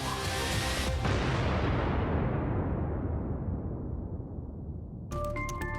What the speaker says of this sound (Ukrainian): Він стрімко наближається до катера, після чого лунає потужний вибух.